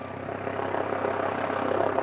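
A police helicopter flies overhead during a search, its steady rotor and engine roar filling the air at an even, fairly loud level with no voices.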